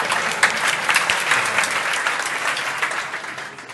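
Applause from a conference audience at a software talk on Angular Material, a broad, even crowd clapping that carries on for several seconds and tapers slightly toward the end.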